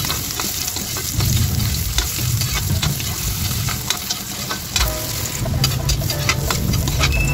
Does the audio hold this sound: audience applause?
no